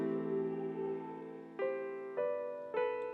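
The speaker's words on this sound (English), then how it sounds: "This kind of makes it wobble a little bit." A mellow keyboard melody of a few notes, slightly wavering and detuned, each note sustaining into the next; quiet with no voices.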